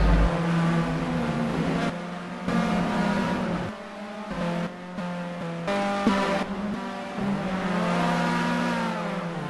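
A rally car, badly damaged after a crash, revs hard and pulls away; loud engine roars rise and fall in bursts with brief dips, close and continuous, with no voices.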